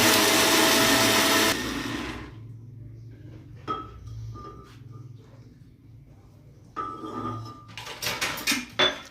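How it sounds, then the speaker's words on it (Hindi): A blender runs loud and steady while blending oil for homemade mayonnaise, then stops abruptly, leaving light clinks and handling noises with short whirring bursts near the end. "ये हमने फिर ऑयल शामिल कर दिया, इसको बिल्कुल ब्लेंड करना शुरू कर दिया।"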